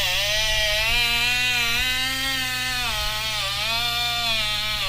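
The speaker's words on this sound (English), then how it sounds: "This was one of the first rotary tools that Ryobi came out with." An early Ryobi rotary tool runs with a loud, steady high-pitched whine whose pitch wavers slightly as the load shifts, close and continuous with no talk.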